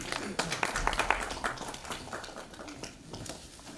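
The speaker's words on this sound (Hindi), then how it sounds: "बस जोरदार तालियां।" Audience at an award ceremony in Sahkarita Bhawan, Lucknow, clapping in a brisk burst of many hands that gradually thins and fades, with a voice speaking over it.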